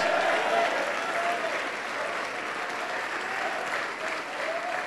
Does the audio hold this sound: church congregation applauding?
yes